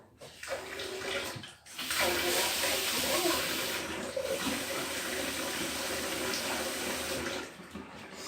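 Water from a kitchen tap gushes steadily into a sink for several seconds while a cut thumb is rinsed, starting after a brief pause and tailing off near the end.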